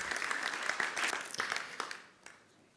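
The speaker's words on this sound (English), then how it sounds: "please give a very big applause to Mike Austin from Avalanche Geeks." A burst of audience applause, many hands clapping densely, fading out toward the end.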